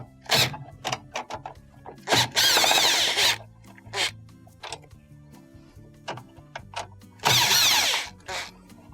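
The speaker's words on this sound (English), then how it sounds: "we have 3 screws around this plastic housing that will need to be removed" A power screwdriver removes three Phillips screws from the plastic lid housing of a Frigidaire top-load washer, two loud whirring bursts separated by clicks, taps and rattles of plastic parts being handled nearby.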